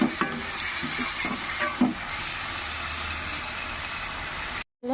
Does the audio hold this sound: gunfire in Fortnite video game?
no